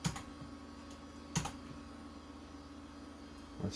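Typing on a USB keyboard attached to an old Pentium 4 PC under repair: a few sharp, sparse key clicks at the start, middle and end over a quiet steady computer hum.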